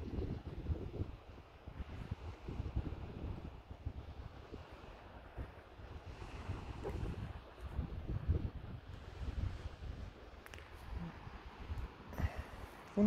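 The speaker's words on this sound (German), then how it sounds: "Wunderschöner Strand." Wind buffets the microphone on a beach, with a continuous rumbling roar of waves and surf underneath, steady and fairly close throughout.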